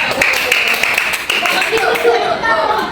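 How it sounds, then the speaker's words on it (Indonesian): A classroom group briefly clapping together for group 3, a short burst of rhythmic claps close by, with talking at the same time. "Oke, tepuk tangan buat kelompok 3."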